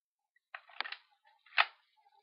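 Spring-powered Glock 17 airsoft pistol with its button pressed, its spring mechanism giving a few sharp mechanical clicks and snaps up close, quiet, with brief pauses between them.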